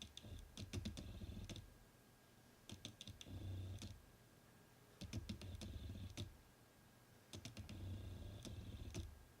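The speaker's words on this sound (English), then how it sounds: "you can clearly hear the motor in the background" Camera autofocus motor picked up by a Takstar SGC-598 shotgun microphone, faint clustered bursts of small clicks and whirs repeating in groups every few seconds over quiet background hiss, with no talking.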